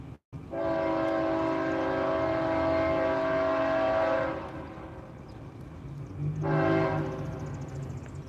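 A BNSF coal freight train rolls past on the NS line, its horn blaring long and loud for several seconds, dropping off, then sounding again briefly over the rumble of the passing cars.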